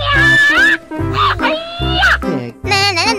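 A cartoonish pig oink, voiced in a few short grunting bursts over bright synthesized music, loud and close.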